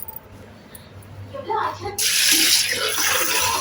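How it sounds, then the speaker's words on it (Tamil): Water is poured over lentils set to soak for a large batch of 1.5 kg, a rising rush that swells into a steady, close splashing stream about halfway through, with a low background hum. "தண்ணி ஊற்றி ஊற வச்சுக்கலாங்க"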